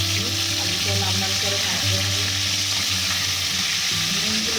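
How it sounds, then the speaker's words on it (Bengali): Cut potatoes for a Bengali biryani fry in hot oil, a loud, steady, close sizzle that holds for the whole stretch, with faint clatter under it. "আলুটা আমরা একটু ভেজে দেবো"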